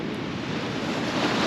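Heavy high-tide surf at Gokarna beach roars as a steady, loud wash of breaking waves, with wind buffeting the microphone throughout and no voices.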